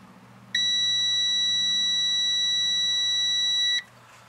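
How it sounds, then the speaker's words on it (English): Digital multimeter continuity alarm sounding as the probes touch, a loud, steady, piercing electronic tone that holds for about three seconds, then cuts off over a faint low hum. "When you touch the probes together, you're going to hear the alarm."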